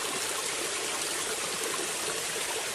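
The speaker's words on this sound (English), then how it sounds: "It's a series of waterfalls." Water cascading down a multi-tier garden waterfall into a pond, a steady, dense rushing wash heard close and continuous with no voices.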